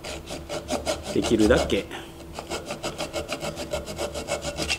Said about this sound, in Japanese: この飛び出た部分っていうのはあさりなしということで、木に傷をつけないという形の、ノコギリになってます。